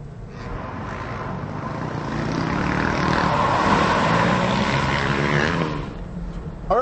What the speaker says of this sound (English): Run the transmission up through the gears.